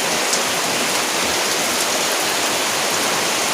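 Steady rain falls outdoors as a dense, even hiss of drops, loud and close throughout, with no voices.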